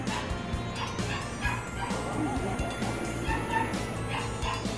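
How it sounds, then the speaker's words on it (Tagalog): Several dogs bark and yip steadily outdoors, with a few whimpers mixed in, continuous and fairly close throughout. "So, ayan, may naririnig po kayong aso."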